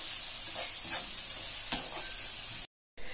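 Sliced onions and green chillies sizzle and crackle in a hot pan while being stirred and sautéed for semiya rava upma, with scraping stir strokes over steady frying hiss and a brief cut near the end.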